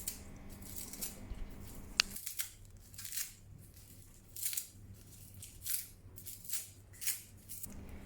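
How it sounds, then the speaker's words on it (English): Quiet snips of scissors cutting pandan leaves into small pieces, a series of short crisp cuts at an uneven pace, close by with no talking. "cut them with scissors into small pieces"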